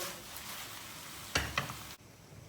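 An eggplant dish shaken and stirred in a pan with the heat just turned off, steady soft sizzle with two quick scraping knocks of the pan before the sound drops away.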